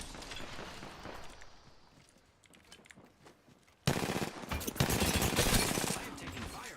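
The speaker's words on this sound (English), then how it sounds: "I am taking fire, friends." Incoming gunfire in a video game, starting faint with distant rattling shots, then a sudden loud burst of rapid automatic fire with shattering impacts close by.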